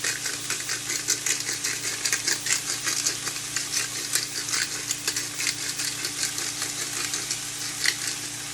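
A small handheld grinder filled with rock salt and peppercorns is twisted over and over, giving a close, rhythmic run of dry crunching, ratcheting strokes.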